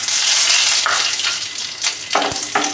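Cardamom and cloves sizzle in hot mustard oil with dried chillies, a loud, close crackling hiss with sharp spits and pops, swelling and fading in short bursts.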